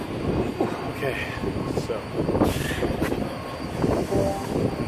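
A metro train rolls along rails nearby with a steady rumble, clattering wheel noise and brief squeals, while a person speaks a few words over it.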